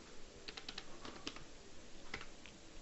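Quick bursts of key taps on a computer keyboard while code is typed, a few clustered clicks close and fairly quiet, with no talk.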